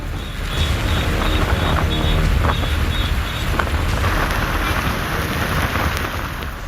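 Strong winds from Cyclone Ditwah roar over the sea at Rameswaram, Tamil Nadu, churning up high waves into a loud, continuous, turbulent rush with gusty surges.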